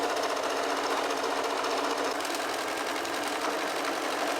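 A domestic sewing machine runs continuously at stitch length 4, sewing gathering lines on a skirt, a fast steady whirring chatter close to the mic with a slight change in pace midway.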